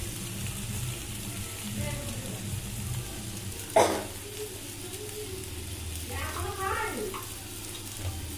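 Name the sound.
stirring spices frying in a hot pan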